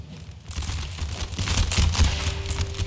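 A game volley in Empire: Total War, with massed gunfire rolling as a dense, continuous crackle and low rumble, fairly loud and without speech.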